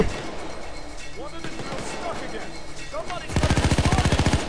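Gunfire in the heist game PAYDAY 2, loud repeated shots with a rapid automatic burst near the end, while a player shouts excitedly over it.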